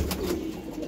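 Soft cooing of a high-flying Giribaz pigeon, a low murmuring call close by that runs through the whole short moment with no other sound over it.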